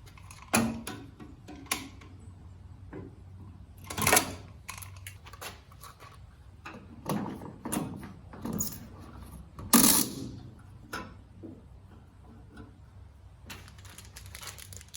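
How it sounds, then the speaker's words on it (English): Needle nose pliers work at the tethered gas cap of a GMC Sonoma mini truck, producing scattered metallic clicks, taps and small scraping handling sounds, close and fairly quiet, with pauses between them. "start by pulling that off with some needle nose pliers"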